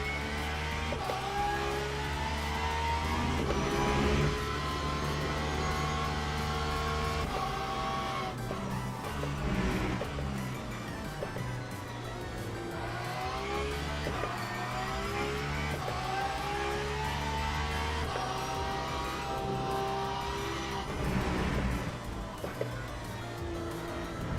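A Porsche race car in the Le Mans Ultimate racing sim roars through a continuous stretch of driving, its loud engine note rising and falling with shifts and throttle changes, steady and dense throughout.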